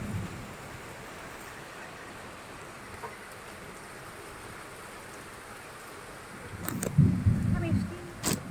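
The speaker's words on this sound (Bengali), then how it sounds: "তুমি বৃষ্টি দেখছো" Rain falls steadily and softly, with a faint hiss and scattered patters. Louder bumps and rustles close by mark the last few seconds.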